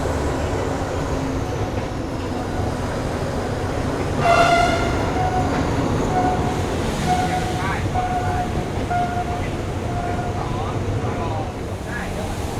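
A diesel train on the Thailand–Burma Death Railway rumbles steadily, heard from a seat right beside the engine, with a constant engine drone and rattling, and a brief horn tone partway through.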